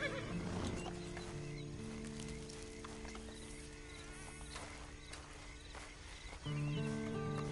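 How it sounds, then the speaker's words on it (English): A horse whinnies briefly near the start, then hooves clop softly over a steady hum of game background sound. "And you better get on this horse."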